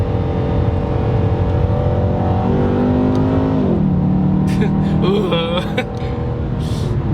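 A Chevrolet SS sedan's engine revs steadily under load, then its pitch dips sharply with a paddle-shifted downshift and climbs again as the car pulls, loud and continuous from inside the cabin.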